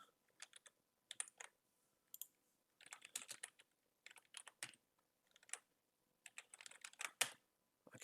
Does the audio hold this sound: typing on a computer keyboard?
yes